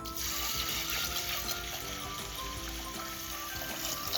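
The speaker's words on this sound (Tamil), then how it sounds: "இதில் தண்ணி சேர்த்துக்கலாம்" Water is poured onto washed lentils in a pot for a curry, a close, steady trickling stream running through the short stretch with no talking.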